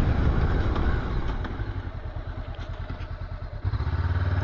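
A Honda CB500X motorcycle brakes hard from about 60 on the road. The engine rumbles close up, then pulses and chugs as it slows. The engine note rises again near the end.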